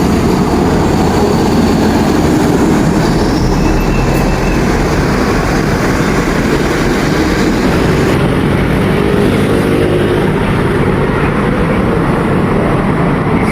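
A Sugeng Rahayu bus heading to Surabaya and Jogja roars past on a road through Tasikmalaya, a loud, continuous engine and tyre rumble filling the whole stretch with no voices.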